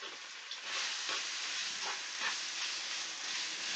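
Chicken stir fry cooking in a pan on medium-high heat, giving a steady, soft sizzle and hiss that swells slightly as it goes, with no one talking.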